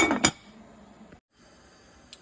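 A metal lid clinks sharply once onto a cooking pot of turnip greens with beef bones, followed by a faint scrape and a soft tap near the end in a quiet kitchen.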